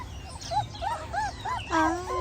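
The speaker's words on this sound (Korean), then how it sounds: "태어난 지 며칠 안 된 어여쁜 강아지들입니다." Puppies only a few days old whimper and squeak in a string of short, high, thin cries, several in quick succession, close by and fairly soft.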